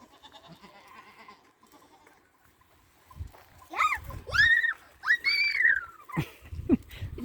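Goats bleat several times up close at the Sorgun highland pasture, wavering cries in quick succession after a quieter stretch with faint background noise.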